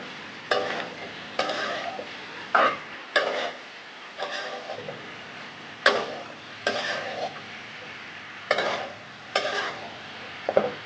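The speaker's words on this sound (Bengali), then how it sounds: "এখন আমি নাড়াচাড়া দিয়ে মশলাটা মিশিয়ে দেব।" Spices are stirred into snake gourd frying with egg in a pan, with a soft background sizzle and about ten regular scraping strokes of the spoon.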